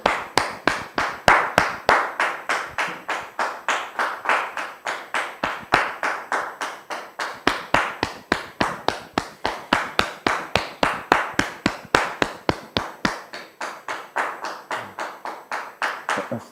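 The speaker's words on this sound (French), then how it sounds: "Je vous demande de la recevoir sous vos applaudissements, s'il vous plaît." An audience welcoming guests with rhythmic, unison clapping, sharp evenly spaced claps repeating steadily and loudly for the whole stretch with no talk over them.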